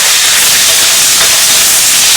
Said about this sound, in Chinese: 把这个猪皮炒一下